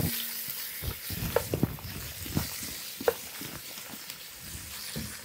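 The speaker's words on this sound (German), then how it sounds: "Und wie man hört, es brutzelt schon richtig schön." Meat searing in a very hot Dutch oven for Szegediner goulash, a steady soft sizzle with intermittent stirring scrapes and clunks, close and moderately quiet.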